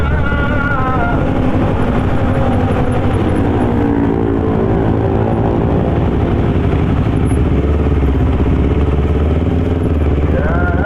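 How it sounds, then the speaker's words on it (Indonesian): A loud, rough motorcycle engine runs close by, its note rising and falling as it revs, with faint voices underneath. "Itu motor Mas Nur"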